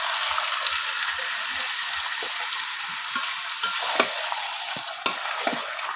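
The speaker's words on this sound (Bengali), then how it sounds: "আবার একটু নাড়াচাড়া করে নিচ্ছি।" Country chicken curry with potatoes, chilli powder and ground spices is stirred in a pan, giving a loud, steady sizzle broken by sharp scraping and knocking stirs near the end.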